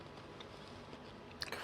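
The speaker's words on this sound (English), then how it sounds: "crunchy biscuit." A crunchy biscuit is bitten with a sharp crisp snap near the end, after a stretch of quiet chewing-like rustle, close and fairly soft.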